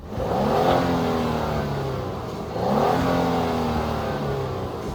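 A 2026 Genesis G90 Prestige driving past outside, a smooth engine and tire whir that swells twice as the car accelerates, fairly loud and with no talking.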